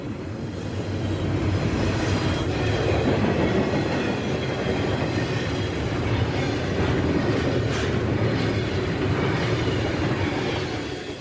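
A Conrail train rolls through switches from one track to another, a loud, continuous rumble of wheels with rhythmic clickety-clack and faint squeals throughout.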